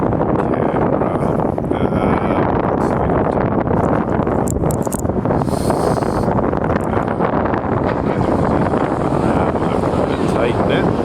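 Strong wind buffets an outdoor camera microphone on Saint Jacques Boulevard in NDG at night, making a constant loud rumbling roar across the whole stretch, with a voice faintly mixed in.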